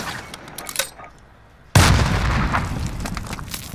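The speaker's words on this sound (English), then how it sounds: "you're just going to shoot your tube like so" Sharp, loud launch blast of a spawn tube in the video game Modern Warfare, a sudden boom after quieter game sounds, followed by a rumbling decaying tail.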